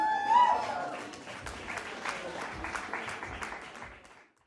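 An audience applauds the performing artists at a poetry and arts event, a moderate, fairly distant patter of many hands that continues evenly then tapers off, with a brief voice at the start.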